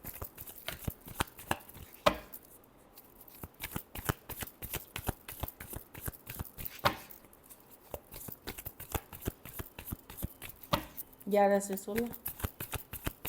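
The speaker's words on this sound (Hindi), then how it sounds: "last shuffle" Tarot cards being shuffled by hand, a dense stream of quick crisp riffling flicks going on throughout, close up, while a voice speaks briefly near the end.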